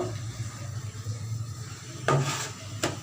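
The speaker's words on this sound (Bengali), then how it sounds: "এখন দিয়ে দিচ্ছি আমি ঢাকনাটা" A lid goes onto a pot of hilsa fish curry cooking with eggplant on high heat, giving two sharp metallic clanks late on, over a low, steady simmer.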